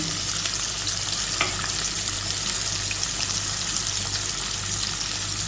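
Onions fry with cinnamon, cloves, mace and cardamom in a pan, a steady, even sizzle with occasional faint stirring clicks, continuous and close throughout.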